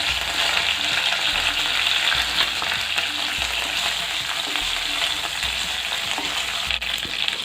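Squid masala with onion, garlic, green chilli and curry leaves sizzles steadily in a pan, a dense continuous frying hiss with occasional soft stirring knocks, close and fairly loud with no voices.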